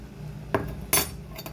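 A spoon strikes and scrapes a metal cooking pot as ingredients are mixed, giving two distinct close clinks followed by a lighter tap in a quiet kitchen.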